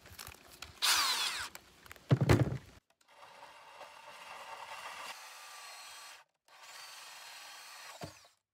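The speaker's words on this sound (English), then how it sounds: "let's just see if we can get it drilled" Power drill boring a hole, with two short loud bursts of drilling followed by a longer steady, quieter whirr that pauses briefly and resumes, no talking.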